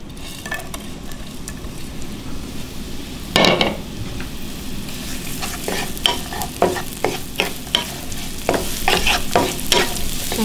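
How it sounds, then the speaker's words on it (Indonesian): Spice paste sautés in a pan with a steady sizzle while a spatula scrapes and stirs in repeated clicks and strokes, growing busier in the second half. "Kita tumis bumbu."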